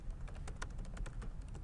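Rapid, steady clicking of keys on a computer keyboard, close and fairly quiet, with no talking.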